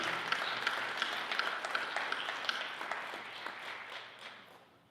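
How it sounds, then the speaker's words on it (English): An audience at a school board meeting applauds student board representatives, a dense, moderately distant round of clapping with some sharper individual claps, slowly fading out over about five seconds. "let's give them a round of applause"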